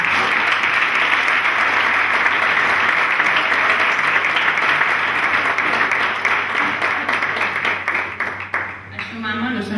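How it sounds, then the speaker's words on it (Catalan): A crowd at a Festa Major parade of hereus and pubilles applauds the Pozo de Torres family, with loud continuous clapping that thins into scattered claps and voices toward the end. "gràcies i un aplaudiment per la família del Pozo de Torres"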